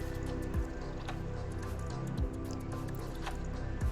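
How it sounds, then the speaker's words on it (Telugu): Chopped fenugreek leaves are swished and squeezed in water, producing soft wet squelches and drips at an irregular pace, close and quiet. "చిన్న చిన్న ముక్కలుగా కోసేసుకున్నాను, దాన్ని శుభ్రంగా చేస్తున్నానండి వాటర్లో."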